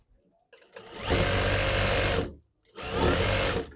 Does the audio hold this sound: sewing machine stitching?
yes